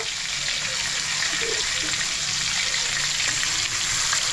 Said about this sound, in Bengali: সিদ্ধ করা ডিমগুলোকে তেলে দেওয়ার পর সেটাকে ভাজবো একদম ডাইরেক্ট ভাজবো